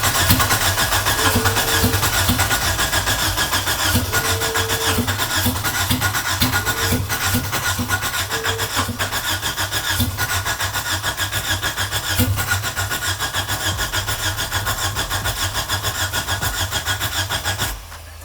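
A Toyota AE92 (Conquest) engine cranks steadily and tries to catch for about eighteen seconds, a loud, continuous rhythmic churn that never settles into a clean idle before cutting off near the end.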